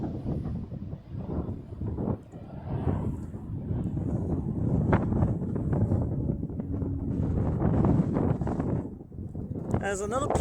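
Gusty wind buffets the microphone outdoors, heavy low rumbling bursts that come and go throughout, while a person speaks underneath.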